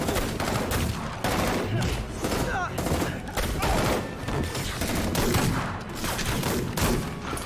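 Gunfire from Marvel's Spider-Man video game, a dense run of repeated shots over about seven seconds, steady and loud, with game sounds and some voices mixed in.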